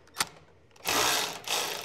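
A ratchet fitted with a 1/2 inch socket loosens a bolt that screws into a frame, giving a short click and then two rapid buzzing ratchet runs close by.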